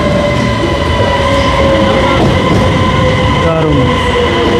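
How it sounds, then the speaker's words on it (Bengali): A high-speed bullet train pulls into Guangzhou railway station with a loud, steady rumble and rolling rail noise, a sustained mechanical whine riding on top, and faint voices beneath. "ট্রেন আসতেছে।"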